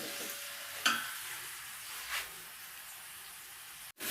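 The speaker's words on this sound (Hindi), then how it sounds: "5-7 मिनट के लिए भून लेंगे, ताकि जो मैंने ये इसके अंदर लहसुन और अदरक डाला है इसके भूनने से इसकी जो स्मेल है वो ख़त्म हो जाएगी।" Chicken pieces frying with garlic and ginger in a pot, a soft steady sizzle with a couple of brief stirring scrapes, close and fairly quiet, with no talking.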